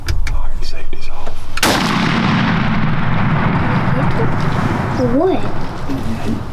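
A single loud rifle shot rings out on a deer hunt, followed by a long rolling echo across open country, with a voice speaking faintly afterward.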